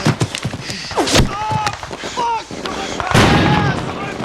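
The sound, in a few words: war gunfire and artillery in Band of Brothers episode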